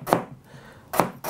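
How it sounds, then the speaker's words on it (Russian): Two sharp knife chops through ginger onto a wooden cutting board, spaced about a second apart, close and crisp. "Имбирь режу тонкой соломкой."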